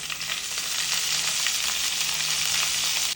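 Hot oil sizzles and crackles steadily as mustard seeds pop with urad dal, dried red chillies and curry leaves, a dense continuous frying hiss that cuts off abruptly at the end.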